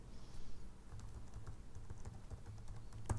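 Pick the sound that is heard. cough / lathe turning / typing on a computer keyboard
typing on a computer keyboard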